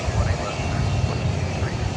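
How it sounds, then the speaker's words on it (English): An American Eagle Embraer 170 jet at an airport gives a steady, broad roar at moderate distance, with a voice talking faintly underneath. "This is the American Eagle 170, Embraer 170."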